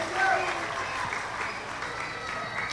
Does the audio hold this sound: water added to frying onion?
no